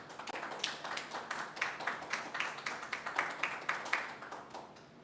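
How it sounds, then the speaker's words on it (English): An audience at a veterans' PTSD open mic claps steadily, a fairly close, moderately loud spatter of handclaps with rhythmic peaks that slowly fades toward the end. "Please keep your applause going for Ty"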